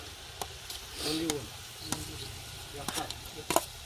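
Goat brain dropped into hot frying masala, giving a soft sizzle with a few sharp clicks and pops of stirring over a low background hiss.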